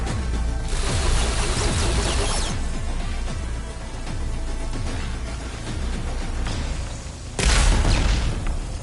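In-game explosions boom through a video game action scene, with a dense rumbling wash of blasts and debris that swells and surges again near the end, loud and continuous with no talk.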